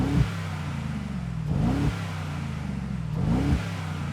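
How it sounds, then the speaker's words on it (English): Engine of a new Mercedes-AMG G63 revved in three sharp blips, each rising quickly and falling back to a low idle rumble, heard close by with no talking. "Let's have a listen to the new G63."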